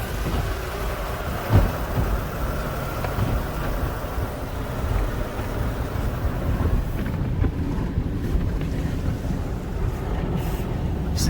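Water jets spraying in an Autobell car wash tunnel with a Hanna International system, rinse and pre-soak soap hitting the car past a cloth curtain, a steady broadband hiss and rush throughout with a brief thump early on.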